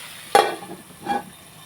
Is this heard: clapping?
no